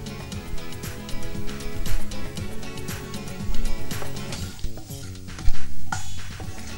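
Whole cumin seeds with garam masala frying in hot oil in a pan, a steady close sizzle running throughout with occasional stirring clatter and scraping; no talking.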